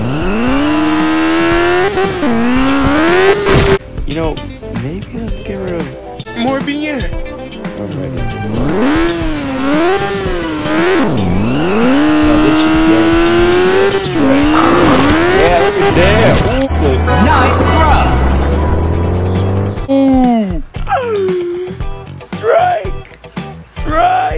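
Car engine in the Turbo Dismount video game, driving straight into traffic. The revving rises and falls in loud, continuous sweeps, with tire squeals and skids mixed in and a sharp impact partway through.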